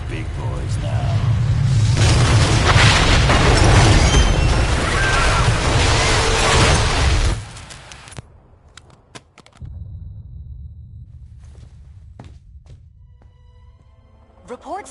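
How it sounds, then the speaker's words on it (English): A massive explosion in a residential neighborhood during a video game cutscene: a loud, sustained roaring blast lasting several seconds that cuts off abruptly, followed by quieter scattered crackles and small impacts. "indicate a massive explosion in a residential neighborhood"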